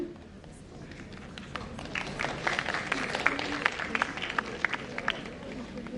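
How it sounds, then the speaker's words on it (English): Student audience at Pathways School in Gurgaon applauding during an author's interactive session, a scattered patter of claps that builds and thickens, with background chatter. "Why is she getting applause?"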